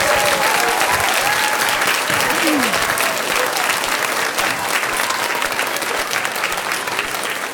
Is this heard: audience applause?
yes